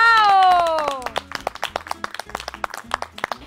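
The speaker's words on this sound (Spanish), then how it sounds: "Vamos, un fuerte aplauso." Applause from a children's talent show crowd after a robot-style dance routine: a sustained high cheer opens, then scattered, uneven hand claps ring out close by.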